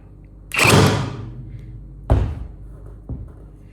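A Yofidra brad nailer driving nails into scrap wood in single-shot mode: three sharp thumping shots, the first a long heavy burst and the next two shorter and fainter, close and loud with no talking.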